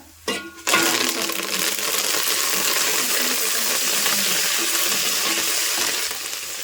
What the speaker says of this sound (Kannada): ಈಗ ಬೆಳ್ಳುಳ್ಳಿ ಫ್ರೈ ಆಗ್ಯಾವ